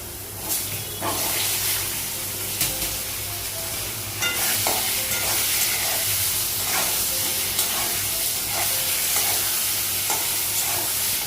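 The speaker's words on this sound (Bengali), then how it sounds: "বেগুনটা দিলাম বেগুনটা ভেজে নেবো" Eggplant fries in a pan with a continuous crackling sizzle, punctuated by regular scrapes and clatters of a spatula stirring; close and steady, with no talking.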